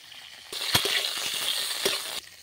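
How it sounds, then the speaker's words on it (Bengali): Cauliflower florets dropped into hot white oil for a fulkopi roast, a sudden steady sizzle that runs for under two seconds with a couple of sharp clinks of spoon on pan, close and alone. "কপিগুলো এরপর ভেজে নিচ্ছি"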